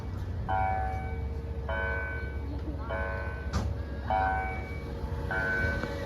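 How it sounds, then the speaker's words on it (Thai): A railway level-crossing signal bell at Pha Sadet, Thailand, rings in short repeated bursts at a steady rhythm as a train passes over a low rumbling background, with a brief clank partway through. "ที่ผาเสด็จะมีสัญญาณดังแบบนี้นะครับ ว่าเวลารถไฟวิ่งผ่านนะครับผม"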